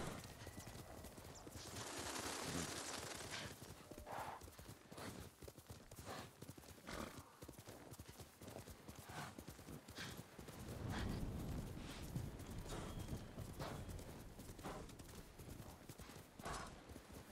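Horse hooves clip-clop in a steady riding rhythm in the samurai video game Ghost of Tsushima on PS4, quiet and continuous, with occasional louder bursts of galloping.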